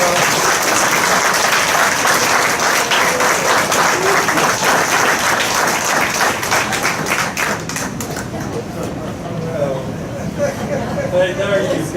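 Applause at an awards luncheon for an alumni award recipient: a room of people clapping steadily and loudly, thinning out toward the end as voices begin talking over it.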